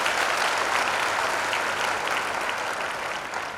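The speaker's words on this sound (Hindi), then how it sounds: "ताली मारी टिके प्रभु प्रशंसा करिए" A church congregation claps together in praise of the Lord during a service, a dense and steady burst of applause that fills the space from start to finish without talk.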